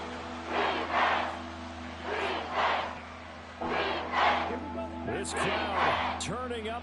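A stadium crowd at a football game cheers loudly in rising and falling waves of roar, with whoops and shouts toward the end and a voice speaking over it.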